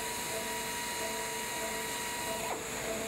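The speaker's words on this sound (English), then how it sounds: "an air-operated orbital sander is used on the back face to produce a smooth finish" An air-operated orbital sander smooths the back face of a cut aluminium sheet, giving a steady, moderately quiet whirring hum with a constant high whine and a brief pitch shift near the end.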